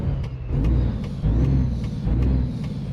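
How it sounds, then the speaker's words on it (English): A Caterpillar C15 engine rated at 625 horsepower in a Welcome International LoneStar in American Truck Simulator, a loud, deep, steady rumble with a rhythmic low pulsing and faint periodic clicks. "the engine in today's truck is a C15, 625 horsepower"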